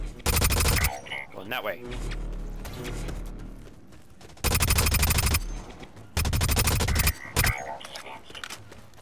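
Loud automatic assault rifle bursts in the shooter game Blacklight, three long sustained volleys of rapid fire separated by quieter gaps, with a voice speaking briefly.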